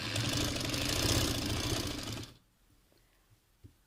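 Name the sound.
sewing machine stitching trouser fabric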